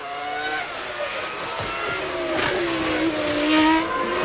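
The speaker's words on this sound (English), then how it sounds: "Those instantaneous gear shifts." A 1997 Formula One car screams at high revs, its engine note climbing and dropping in quick steps as the sequential gearbox fires through instantaneous shifts, loud and close with a gradual swell, no talk over it.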